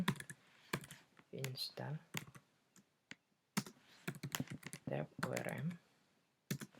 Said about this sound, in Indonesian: Sekarang kita coba ketikkan npm